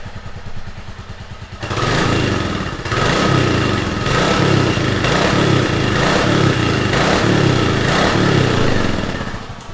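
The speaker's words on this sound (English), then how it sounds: "I want you to hear the pea shooter exhaust." A Royal Enfield Classic 350 with an EFI engine and a pea shooter exhaust starts up and idles close by. It runs with a loud, steady, thumping beat.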